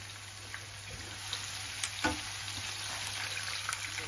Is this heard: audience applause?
no